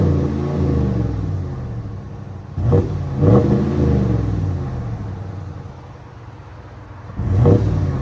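A 2023 RAM 1500 with the 5.7-liter HEMI E-Torque V8 and a Magnaflow cat-back exhaust idles with a deep, steady rumble and then gives three sharp revs, at about 2.5, 3.3 and 7.2 seconds, from close by.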